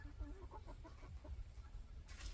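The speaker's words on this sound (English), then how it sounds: "we got some chickens playing too" Chickens cluck softly nearby in a quick, uneven series of short calls over faint outdoor background noise.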